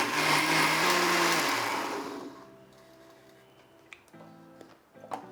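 A kitchen mixer grinder blends onion and tomato chutney, whirring loudly for about two seconds before spinning down, followed by quieter clicks and knocks from the jar and lid.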